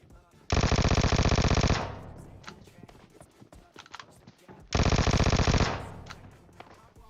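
Two long bursts of rapid automatic fire from a Vector submachine gun in PUBG Mobile, each lasting over a second, loud and close, separated by quieter in-game footsteps and movement sounds.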